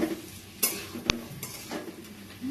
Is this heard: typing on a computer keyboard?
no